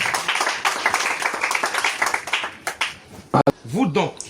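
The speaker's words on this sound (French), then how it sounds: "Acclamez encore pour elle" A church congregation applauds during a French-language worship service, with scattered claps running steadily under a pastor's amplified voice before fading out near the end.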